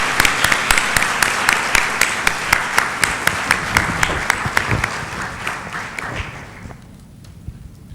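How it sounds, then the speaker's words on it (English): An audience at a university lecture claps loudly and steadily to welcome the speaker, dense applause that thins out and fades near the end. "Ladies and gentlemen, please give a big applause to welcome Professor Bruce Allen Beutler."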